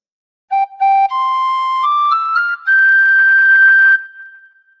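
Tin whistle playing a short phrase of the Star Spangled Banner: a few clear, breathy notes rising step by step, ending on a held higher tone that fades out, close and solo.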